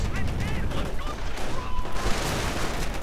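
Crackling rifle and machine-gun fire in a WWII strategy game battle, with rapid overlapping shots and bursts under a busy mix of battle effects, loud and continuous.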